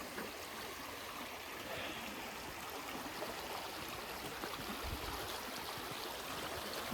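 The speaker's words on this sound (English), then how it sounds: "That's where the water's coming out from behind the berm." Flash flood water rushes out from behind a berm beside a road, a steady broadband roar of flowing water that holds constant throughout, fairly close, with no talk.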